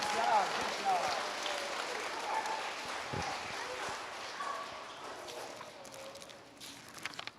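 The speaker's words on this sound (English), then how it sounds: "Give them one more round of applause." Audience applause for students at an elementary school assembly, a fairly quiet spread of clapping from a room, fading gradually, with some voices and shuffling underneath.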